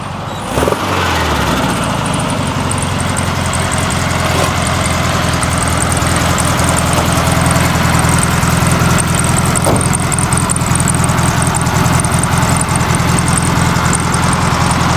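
Air-cooled 1.2-liter flat-4 engine of a Volkswagen Beetle idling in Need for Speed No Limits, a steady, loud, even burble that runs unbroken from start to finish with no voices.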